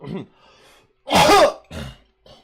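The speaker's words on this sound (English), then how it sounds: "damn, my cough's bad today" A loud, harsh cough burst following a brief throat-clearing sound, then a shorter follow-up hack, close to the microphone.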